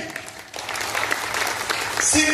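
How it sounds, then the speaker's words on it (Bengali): Audience clapping at a Modicare business presentation, a dense steady patter of many hands that grows a little louder toward the end, with a voice speaking faintly beneath it. "একটু উঠে দাঁড়াই সবাই মিলে, জোরসে হাততালি।"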